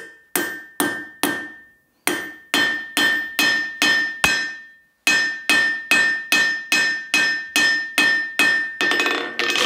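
Ringing hammer blows on forged metal for a bagpipe part, struck in quick, evenly spaced bursts of several sharp metallic hits with short pauses between runs, each strike bright and resonant close to the microphone.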